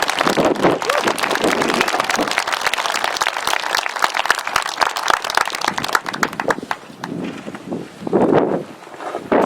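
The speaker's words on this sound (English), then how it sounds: "let's give them a round of applause" A crowd at the annual Manzanar Pilgrimage gives a round of applause for the Manzanar Committee: dense, sustained outdoor clapping from many hands that fades unevenly toward the end, with some wind and brief voices.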